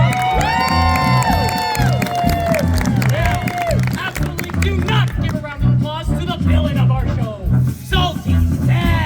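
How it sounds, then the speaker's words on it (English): An audience at a live stage show cheers and whoops for the star, with loud clapping and shouting under an announcer's amplified voice and music. "give a big round of applause to the star of our show, Sweet Sue"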